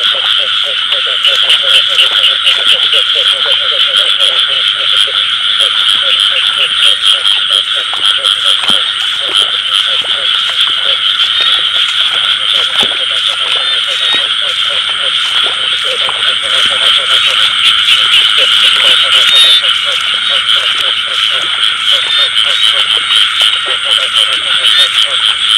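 A dense chorus of field frogs croaks loudly and continuously at night after the season's first rain in rural Vietnam, many males calling at once in a rapid, rasping pulse with no pause.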